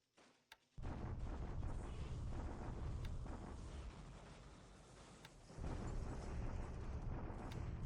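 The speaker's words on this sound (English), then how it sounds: "the usual bombardments there" Heavy bombardment explosions from the War in the Pacific strategy game rumble in a dense, continuous roar, loud and sustained after a brief quiet start, with a short dip before swelling again.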